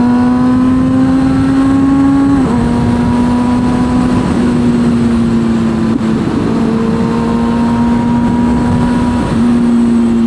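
A Kawasaki 636 sport motorcycle engine idles steadily, loud and close, with a smooth continuous hum and slight dips in pitch as the revs waver, running alone without talk.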